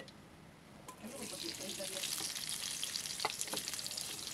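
Siomai sizzles and fries in a pan, a soft, steady crackle of hot oil that rises after a brief quiet start and continues evenly.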